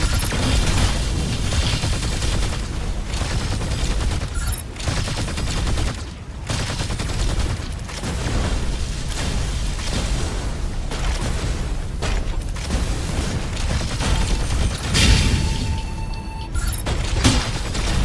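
Sustained gunfire from a mech's shooting mode in the video game Mecha Break, dense rapid bursts and booming impacts roaring loud and continuous with brief dips, no talk.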